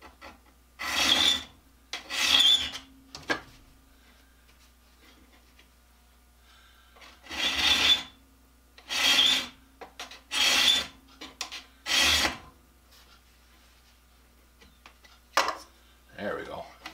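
A diamond file is stroked by hand across the teeth of a carbide-tipped saw blade, giving repeated rasping strokes in short bursts with pauses between them, close and fairly quiet.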